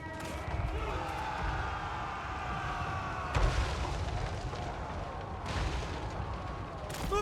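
Artillery booms in a Total War Warhammer 3 battle, two sharp heavy shots over a dense din of battle noise and unit voices.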